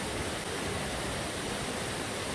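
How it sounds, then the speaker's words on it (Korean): Jaein Waterfall on the Hantan River in a UNESCO Global Geopark, a steady, dense roar of falling water with no voices heard. "한탄강 유네스코 세계지질공원 제1명소 제인폭포입니다."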